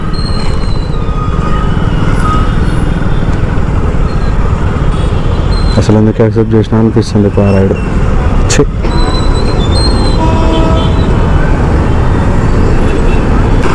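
Heavy city road traffic heard from inside a vehicle, a loud constant engine and road rumble with a brief horn-like tone in the middle, while someone talks over it.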